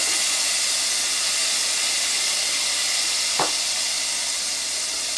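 Two teaspoons of garlic sizzle in a tablespoon of melted butter in a pan over medium heat, a steady close hiss throughout with one brief scrape of a utensil partway through.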